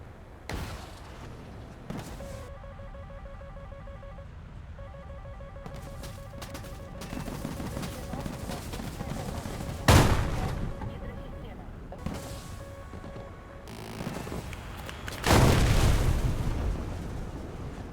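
Missile launches and explosions in an air combat video game, with heavy booms, rumbling blasts and a few sharp bursts under steady narration, plus a sustained warning tone in the middle.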